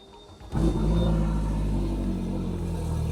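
A Suzuki outboard motor fires up while being flushed with fresh water, catching abruptly after a brief start and settling into a loud, steady idle rumble close by, with no talk over it.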